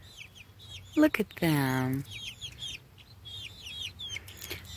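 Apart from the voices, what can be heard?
chicks clucking in the henyard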